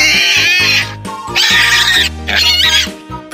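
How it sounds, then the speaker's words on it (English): A farm pig oinks in three loud, close grunting bursts separated by short pauses, with a steady low tone running underneath. "Pig."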